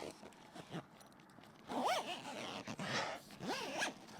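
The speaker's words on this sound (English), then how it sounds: "Now let's just flip this cover and begin zipping." A zipper is pulled along the fabric cover of a Yakima MajorShady 270 awning in several quick, close zipping strokes with short pauses between them.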